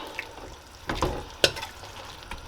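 Shredded cabbage tossed into a pot of curry shrimp, a steady sizzle broken by several sharp stirring clanks and scrapes of a spoon against the pot, one especially crisp hit near the middle, with no talk.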